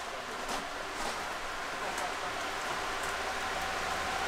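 Rain falls steadily around a car at a driving practice session, a continuous broadband hiss with faint scattered drop impacts, close and even throughout.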